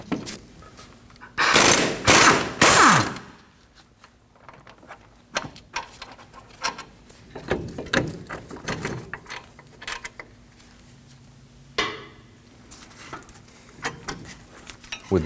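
Caliper bracket bolts on a Ford F-150 front end being undone with a 21 mm socket and ratchet, giving a loud burst of rapid ratcheting clicks early on, then scattered softer metallic clicks and clunks of tool handling.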